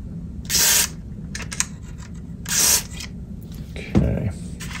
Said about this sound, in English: So I actually sprayed it on the inner, in between the keyboard there too